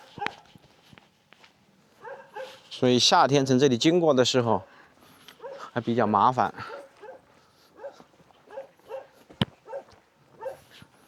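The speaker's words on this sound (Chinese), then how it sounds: "哇，这里好多小狗。 那狗都爬到屋顶上去了。" Many small dogs in a Chinese mountain village give loud, wavering yelps and whines in two bursts, with scattered smaller sounds and a person talking around them.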